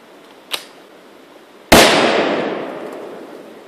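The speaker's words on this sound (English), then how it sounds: "I'm going to shoot this with a 223 and we'll see what happens to the can." A tiny Shockwave explosive charge taped atop a can and hit by a .223 rifle shot: a small sharp crack first, then a loud, close blast whose roar slowly decays over two seconds.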